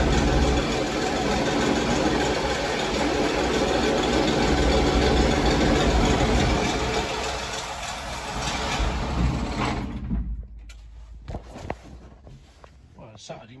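A Massey Ferguson 1250 tractor's diesel engine runs at a steady idle close by just after its first start, loud and rumbling, with voices over it, then cuts out near the end, leaving quieter knocks and movement.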